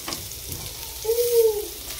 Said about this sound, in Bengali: এটা ভাজা হতে থাক ততক্ষণে